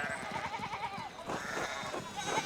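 Sheep bleat in quick wavering cries in a medieval farmyard in the game Pentiment, one animal calling in a rapid quavering run, then more bleats following against soft background noise.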